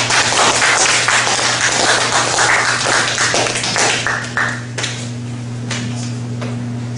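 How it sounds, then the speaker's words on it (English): Applause from an audience welcoming a speaker at a talk, a dense steady wash of many hands clapping that fades gradually toward the end, loud and close, alone without talk. "let's welcome our speaker with a big round of applause"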